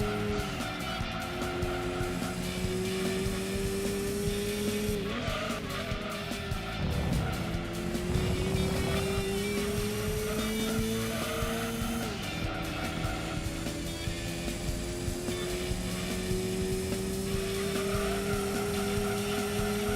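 Corvette race car in Gran Turismo 2, an engine droning and shifting up through rising revs with repeated bursts of tire squeal and skidding as it slides through corners, loud and continuous, no talking.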